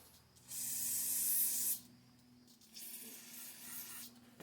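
Carburetor cleaner sprayed onto a junkpile generator's carburetor gives two close hissing bursts, the first about a second long and the second shorter and softer, with no talking.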